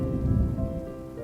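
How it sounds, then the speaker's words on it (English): Heavy rain falls outside in a dark animated mystery story, a dense, loud, continuous rumbling wash with a deep low-end roar and no voices over it. "The rain outside was too heavy to walk to the grocery store."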